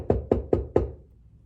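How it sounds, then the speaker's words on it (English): Four quick, evenly spaced knocks on a door, close and sharp, with a short fading tail and no talk. "I heard a knock on the door"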